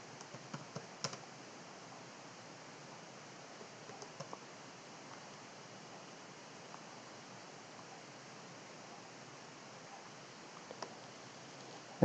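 Typing a SQL select command on a computer keyboard in a quiet room: scattered soft key clicks in small clusters over steady low hiss, faint and close, with no voices.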